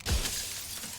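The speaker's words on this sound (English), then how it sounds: "A crack slides down the center of the mirror, splitting the image in the glass in two." Mirror glass cracks loudly in the video game Slay the Princess, a single sharp shatter with a heavy low thump at the start and a brittle ringing tail that lingers close and clear.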